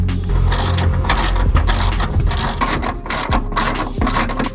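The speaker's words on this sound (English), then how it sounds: "Now that we have the clear access to the bolt, we can do the unscrewing." Ratchet wrench clicking rapidly while unscrewing a seat bolt on a Mitsubishi Lancer, loud and close in bursts of fast ratcheting strokes with no talk.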